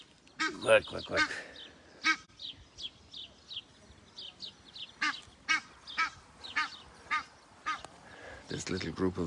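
A small group of geese calls repeatedly, honking in a string of sharp, uneven bursts, some overlapping, close by and fairly loud against a quiet outdoor background.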